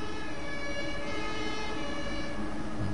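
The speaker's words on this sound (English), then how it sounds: "Some sirens." Sirens in Train Sim World 2 on the Munich–Augsburg route sound as a steady wailing tone held over a dense, loud rumble of ambient noise for the whole stretch, without voices.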